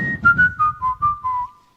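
A man whistles a short tune live on stage, a clear sequence of about six gently descending notes, close and alone without talk.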